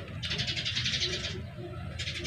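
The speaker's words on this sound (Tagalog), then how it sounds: "Ibon lang." Birds calling outdoors in a quiet spot: a burst of bright, rapid chirping for about a second, a pause, then chirping again near the end, fairly close, with a soft coo-like murmur and background low hum.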